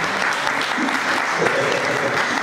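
A church congregation claps and cheers loudly in continuous applause during a sermon, a dense, even roar of hands and voices filling the whole moment.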